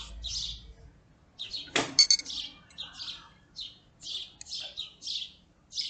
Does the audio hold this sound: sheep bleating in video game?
no